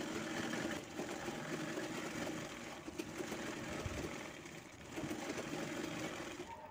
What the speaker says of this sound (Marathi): मी त्याला खालच्या साईडनं मी तळाला बॉटमला मी शिलाई घेत आहे खाली